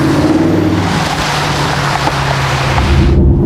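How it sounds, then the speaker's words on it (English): A Mercedes SLS AMG's engine drones steadily while the car drives along a Berlin road, a loud, close low rumble with broad road and wind noise, holding constant before dropping slightly at the end. "You gotta watch out when you step on the gas pedal, because this ship is a rocket ship."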